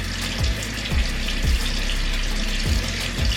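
Tap water runs steadily into a sink as hands are wetted before applying a whipped clay face mask, a continuous close hiss with a few low thumps.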